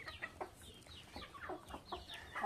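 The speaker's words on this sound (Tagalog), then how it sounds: "Yung mga manok natin." Farmyard chickens clucking close by, a quick series of short, irregular clucks and squawks with a low rumbling background.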